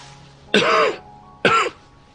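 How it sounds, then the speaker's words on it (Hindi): Two short, rough coughs or throat clears, close and fairly loud, about a second apart with quiet between them. "और फिर खांसने लगता है"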